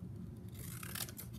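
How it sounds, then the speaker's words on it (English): Scissors snip through paper while a mask is being made, a short faint crisp cutting and rustling sound heard up close with no talk. "cut my paper."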